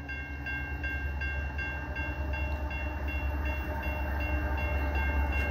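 A local train from Chicago pulls into Prospect Heights station in the USA with a steady, loud rolling rumble and a sustained tonal whine that grows slightly louder as it arrives. No one speaks.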